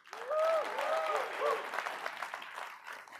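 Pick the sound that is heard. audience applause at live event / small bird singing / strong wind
audience applause at live event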